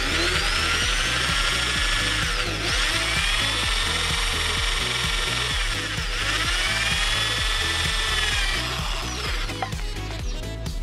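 A power drill grinds steadily through a bent steel flat bar, a harsh high whine with a rapid chattering underneath, close and continuous with a brief dip partway through.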